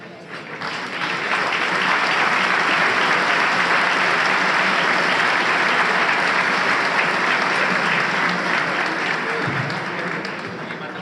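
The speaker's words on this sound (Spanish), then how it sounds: "Entiendo que el aplauso significa que me tengo que sentar" A large audience applauds steadily and loudly after a speech by Uruguay's economy and finance minister, a dense sustained roar of clapping that swells in and holds for about ten seconds with no voices over it.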